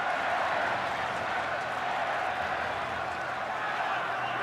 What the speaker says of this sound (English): the home crowd trying to urge the Warriors back